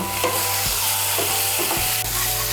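Spice masala sizzling loudly in hot oil for an egg dish, with a steady close fry hiss and a few scraping stirs of the spatula, and no voices.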